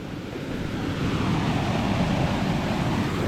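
Muvattupuzha river flowing beside a road, a continuous broad rushing roar of water that swells slightly and holds steady, fairly close with no talk.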